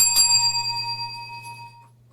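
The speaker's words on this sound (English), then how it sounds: "I rang that bell." A single bell rung on a puppy training course, with a bright metallic strike whose clear ringing tone fades away over about two seconds above a steady low hum.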